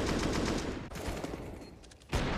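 AWP sniper rifle shots in a professional Counter-Strike match ring out as loud, dense bursts of gunfire, with a sharp fresh shot near the end.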